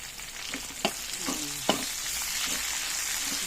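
Red onions and garlic stir-fry in a pan for adobong kangkong, making a soft continuous sizzle broken by a few utensil clicks and scrapes as they are stirred. No voices.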